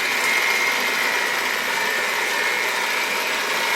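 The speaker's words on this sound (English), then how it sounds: "I'm going to slow my mixer down" Electric mixer running steadily through muffin batter, a continuous close whir with a bright high hiss and no change in speed, no speech.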